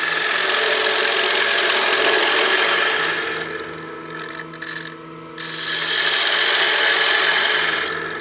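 A wood-lathe gouge makes a bevel-riding cut on a spinning utility box blank, a close, loud hissing scrape that eases off briefly midway before the cut resumes at full strength, with no talking.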